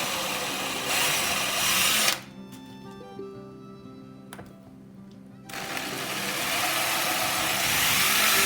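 A power drill bores starter holes for handle screws in a wooden charcuterie board, whirring loudly for about two seconds, stopping for a quiet gap with faint clicks, then running again steadily for three more seconds, close up.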